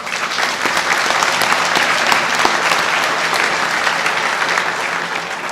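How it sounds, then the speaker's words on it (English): Loud, sustained applause from a large crowd at a Michigan veterans honors ceremony, a continuous wash of clapping that holds steady throughout. "So one more round of applause."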